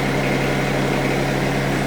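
A tractor engine runs steadily while moving 8-foot 6x6 timbers, a dense, constant mechanical drone with a low throbbing undertone and no breaks.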